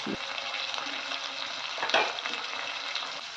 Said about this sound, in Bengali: এভাবে আমি সমস্ত আলুগুলো ভেজে নেব।